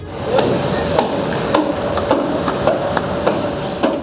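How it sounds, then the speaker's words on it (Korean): Metal hammer blows ring out repeatedly at a busy construction site in an industrial park in Mohan, Yunnan, on the Laos border: sharp regular strikes roughly twice a second over a dense, loud wash of site noise. "라오스와 마주보고 있는 모한진에서는 발길 닿는 곳마다 망치 소리가 요란합니다."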